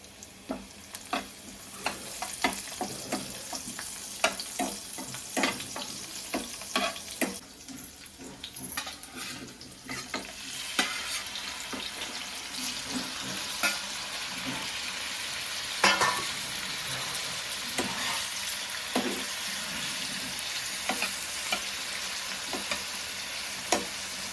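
Fish frying crisp in hot oil with garlic, coriander and curry leaves, a steady close crackling sizzle with stirring clinks and scrapes throughout.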